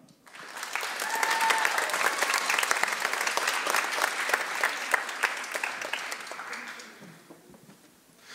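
An audience at a middle and high school band concert gives a full round of applause, rising quickly and holding steady before tapering off near the end.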